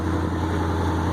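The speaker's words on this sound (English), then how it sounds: "I hate to shut it down like this because it's idling high" A 1965 International Loadstar truck engine idling high, a steady low rumbling drone that holds constant and close with no voices.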